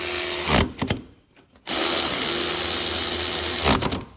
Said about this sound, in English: Drive shaft bolts are now going in, Matthew.